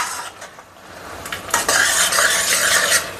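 Egg and ridge gourd stir-fried in a pan: a steady sizzle under close, busy scraping and stirring strokes that grow louder midway, with no talking.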